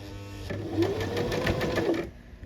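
A sewing machine shirrs fabric with elastic thread in one steady run of rapid stitching lasting about a second and a half, close and clear, then stops.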